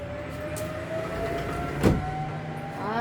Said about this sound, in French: Ah, ces camions qui font du bruit, pardon.